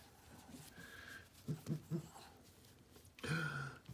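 A puppy makes soft throaty whimpers and breathy panting puffs, a few short bursts close by against a quiet room.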